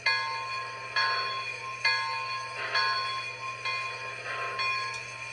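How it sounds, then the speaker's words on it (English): A small model locomotive bell, on an MTH Imperial Camelback CNJ 777, rings repeatedly in an even rhythm, about once a second, with a bright metallic tone over a steady low hum. "first, let's do the bell."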